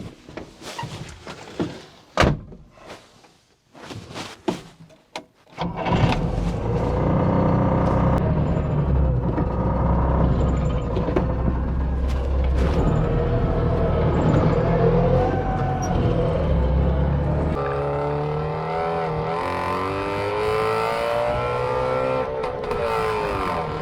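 Trabant P60, an old two-stroke East German car with an unreliable 12-volt system, heard close: a few clicks and door sounds, then the engine catches and runs with a buzzy, raspy idle before revving and pulling away.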